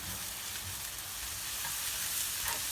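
Sliced onions sauté in oil in a pan for a chicken curry, cooked to a soft golden brown, giving a steady close-up sizzle and hiss with a light rustle of stirring throughout.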